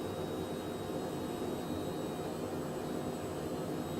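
Cockpit jet engine noise of a Cockspur Phenom 100 in Microsoft Flight Simulator at cruise, a constant dense broadband roar with a faint high whine, steady and unbroken with no talk.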